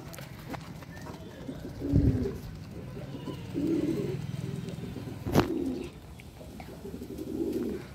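Pigeons in a loft coo in repeated low, throaty bursts, several soft rolling calls spaced a couple of seconds apart, near the microphone, with faint room noise and a few sharp knocks between them.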